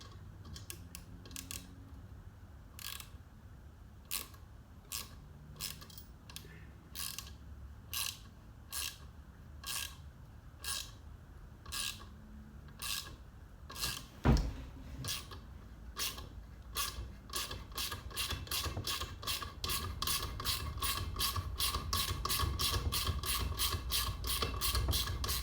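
A ratchet wrench snugging a bolt on a Predator 212 non-hemi engine during governor removal, clicking in slow spaced strokes at first, then speeding into a fast steady run of close, crisp clicks.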